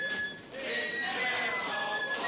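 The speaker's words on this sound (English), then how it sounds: "I can hear wood pigeons and bees." Wood pigeons coo softly among thin, whistled birdsong over a steady outdoor hush, the calls repeating through the clip.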